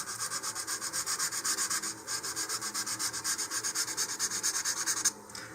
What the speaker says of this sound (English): I'm going to lightly sand along my fin lines here